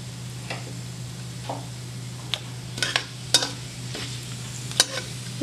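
Panch phoron spices in hot oil for a lady's finger bhindi curry: sparse, close pops and crackles over a steady low hum, a few sharper snaps toward the end, no voices.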